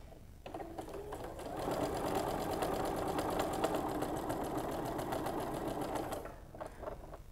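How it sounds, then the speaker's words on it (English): A sewing machine runs in a steady, rapid mechanical rattle for several seconds, starting and stopping cleanly, fairly close with no voices. "So I'm going to put one on my sewing machine."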